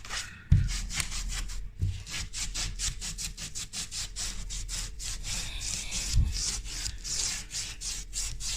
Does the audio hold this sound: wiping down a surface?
yes